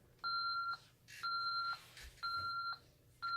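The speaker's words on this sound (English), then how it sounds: "I can hear it beeping, basically saying, hey, get out of the building now" Four evenly spaced electronic beeps, each about half a second long, repeat at a steady rhythm from a nearby ADT/Tyco Safewatch Pro 3000EN alarm keypad being armed to away.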